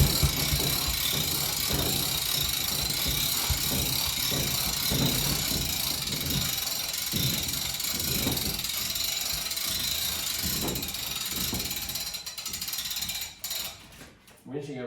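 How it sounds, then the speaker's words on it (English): A drywall lift's winch being cranked to raise a panel against a basement wall, a long run of repeated ratcheting clicks and gear whir, close and steady, then stopping near the end. "Winching it right up till it hits those screws."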